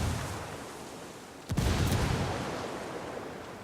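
A single frag grenade blast in the game Ghost Recon Wildlands, with a sharp booming burst about midway through that rolls off slowly into a lingering rumble over steady background noise.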